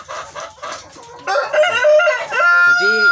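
A free-range village rooster crows loudly and close by, a long rising-then-held cock-a-doodle-doo following a run of clucking and fowl calls.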